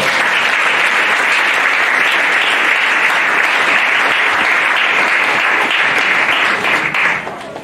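A church congregation applauding the Lord, steady loud clapping from a large crowd filling the whole stretch and fading slightly at the close.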